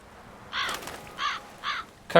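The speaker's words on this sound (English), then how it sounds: "Caw!" Crow cawing in The Witcher 3: Blood and Wine, three distinct harsh caws spaced about half a second apart at moderate loudness, with a brief sharp sound at the very end.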